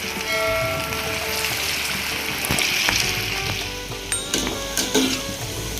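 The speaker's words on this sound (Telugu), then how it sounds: "ఇది కాలనిద్దాం, చక్కగా రంగు వచ్చే వరకు కాలనిద్దాం." Rice-flour sweet corn pakoda batter frying in hot oil, a dense, steady bubbling sizzle heard close up, with a few sharp clinks and spoon taps near the end; no one talks.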